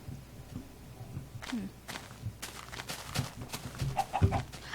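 Chicken clucking in the video game Minecraft Beta: a few short, soft clucks scattered among light game footsteps and ambient sound, fairly quiet throughout.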